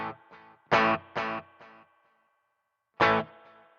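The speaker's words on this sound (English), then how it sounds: "You barely hear the delay there." Distorted electric guitar through a Boss ME-90 multi-effects pedal with delay at a low level: several short chopped chords, each trailed by a faint repeat, then a pause and one more chord ringing out.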